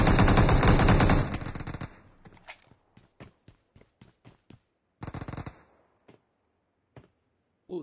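Video game gunfire: a loud sustained burst of automatic fire, then a string of sharp single shots and a short second burst, with quiet gaps between.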